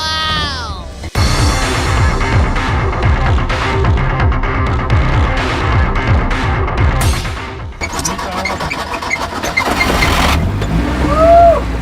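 A custom-built monster car running on tractor tyres drives with a loud, continuous engine roar and rumbling low end, steady throughout with some mechanical rattles, and no talking over it.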